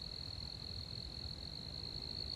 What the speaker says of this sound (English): there is the faint chirping of sphagnum ground crickets